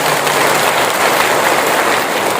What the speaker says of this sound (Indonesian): Boleh tepuk tangan untuk beliau.